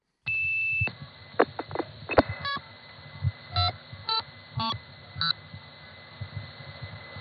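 Telephone exchange signaling tones from a 1970s New York switching office, a series of short electronic beeps and tone bursts over a low hum as the switch outpulses digits, with one brief word spoken.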